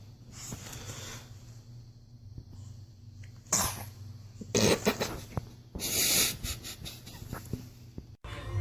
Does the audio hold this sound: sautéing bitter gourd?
no